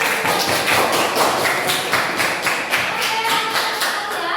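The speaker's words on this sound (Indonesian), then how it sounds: "Oke, tepuk tangan buat kita" A classroom of students claps together in a dense, steady burst of applause. It sounds close and lively and keeps going without a break, with no speech over it.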